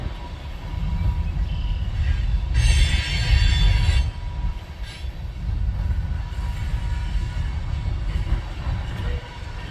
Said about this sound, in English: I hear more braking down toward this end.